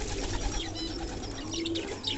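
Fancy and wild pigeons bathing give soft, low cooing calls over a steady wash of water and rustling, close and moderately quiet.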